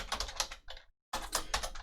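Rapid clattering keystrokes on a computer keyboard while code is typed, close and crisp, pausing briefly midway before the quick tapping resumes.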